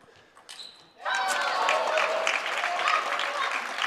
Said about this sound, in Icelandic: Sjáum hér Tómas þjálfari Sólar klappa fyrir þessu stigi